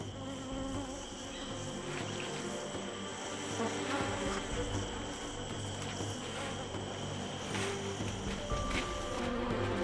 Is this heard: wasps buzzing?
yes